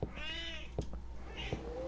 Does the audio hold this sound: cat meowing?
yes